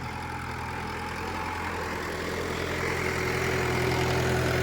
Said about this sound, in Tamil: வண்டி பாருங்கள் ஸ்மூத்தாக போகிற மாதிரி சவுண்டு பயங்கரமாக இருக்குது